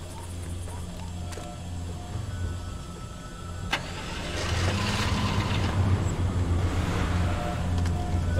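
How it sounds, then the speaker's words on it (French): A vehicle engine in the video game Far Cry 2 cranks and turns over with a sharp click, then settles into a low idling rumble that grows louder and steadier. "je vais reprendre un véhicule"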